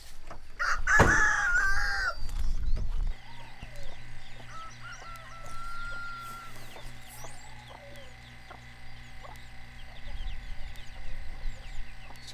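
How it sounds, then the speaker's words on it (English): A rooster crows loudly and close at the start, then chickens including a broody hen keep up scattered clucks and soft calls at a steady murmur. "I'm going to see if I can show them our new broody hen."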